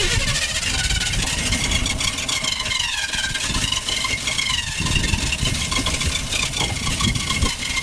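A 1985 Chevy C-20 square-body pickup, pulled from storage, cranks and runs with a loud, rough, steady engine drone throughout, rumbling low end and uneven idle.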